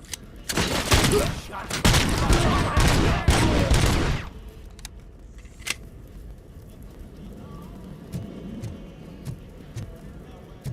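Rapid video game gunfire bursts loudly for about four seconds, then stops abruptly, leaving a quiet background with scattered faint clicks and a brief spoken remark.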